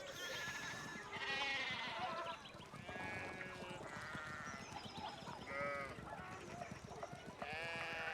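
Several sheep bleat repeatedly in the medieval video game Pentiment, overlapping cries rising and falling one after another over a steady ambient background.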